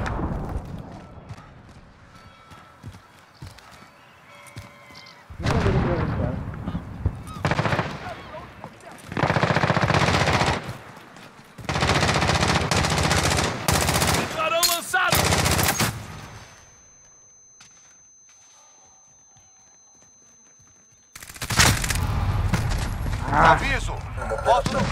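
AN-94 rifle gunfire in the Call of Duty video game comes in several loud, sustained bursts of rapid shots separated by quieter gaps, with in-game voices and commentary talking between and over the shooting.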